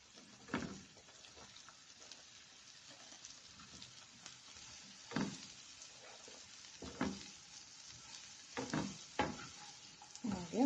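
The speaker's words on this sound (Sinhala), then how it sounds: "දැන් මම හදන්නේ කපාගත්ත දම්බල ටික මේ ලුණු එකට එකතු කරගන්න" Chopped winged beans fry with onion in oil, a low sizzle under repeated scraping stirs of a spoon against the pan, spaced irregularly and close, with no talking.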